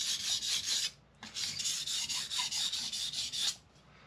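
Knife blade rasping against a CBN sharpening plate on a Tormek-style sharpener, a steady bright grinding texture in two long passes with a short gap, fairly close and alone.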